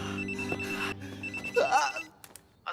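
Telephone ringing indoors, a steady electronic ring tone with sustained pitched tones for about two seconds, then stopping, with a short high-pitched voice sound partway through and faint clicks at the end.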